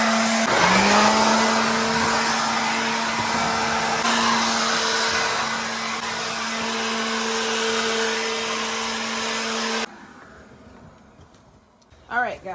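Garden blower running close and loud as a steady, high, whining roar for about ten seconds, then cutting off and leaving quiet outdoor background.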